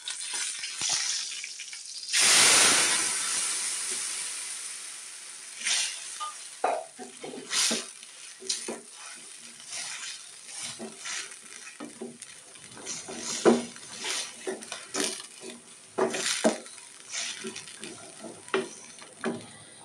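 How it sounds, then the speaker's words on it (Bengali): Cardamom, cinnamon and bay leaf frying in oil with meat then added, giving a loud hiss and burst of sizzling followed by intermittent stirring clatter and softer crackle in a home kitchen. "এলাচি, দারচিনি, তেজপাতাটা একটু ভেজে আমি এর মধ্যে মাংসগুলো দিয়ে নেব।"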